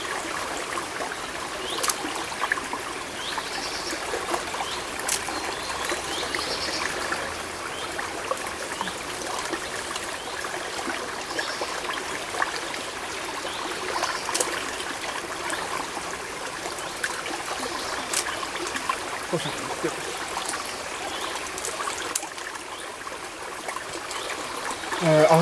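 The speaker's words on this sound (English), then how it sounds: "So it's like a miniature waterfall" Small stream of water trickling down a miniature waterfall, a continuous soft splashing and burbling heard up close and steady for the whole stretch, with faint occasional clicks and no talk.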